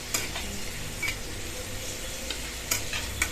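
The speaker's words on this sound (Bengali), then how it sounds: "পেঁয়াজ দিয়ে পেঁয়াজগুলিকেও ভেজে নিচ্ছি লাউয়ের খোসার সাথে" Onions fry with bottle gourd peel in a pan, a constant close sizzle with occasional sharp clicks of a spatula stirring against the metal.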